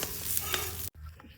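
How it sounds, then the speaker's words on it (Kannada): Spices for tempering sizzle sharply in hot oil for a brinjal tawa fry in a village kitchen, a bright close crackle with a stir, cutting off abruptly before a quieter tail. "ಇದು ಎದಕ್ಕೆ ಒಗ್ಗರಣೆ ಕೊಡಾಕತ್ತೀವ"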